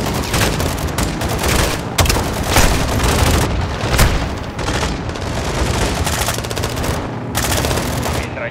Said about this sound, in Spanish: Ametralladora a la derecha.